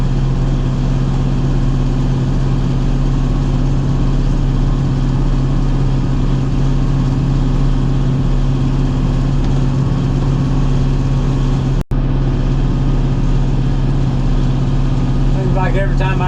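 A John Deere 5101 tractor engine runs at a steady idle with a deep, droning hum, close and loud throughout, with one brief sharp click partway through and faint voice-like sounds near the end.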